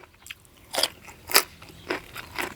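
Crunchy raw bitter melon being bitten and chewed alongside a Thai-Lao fish-sauce soup, giving several sharp close crunches spaced about half a second apart, with quiet gaps and no talking.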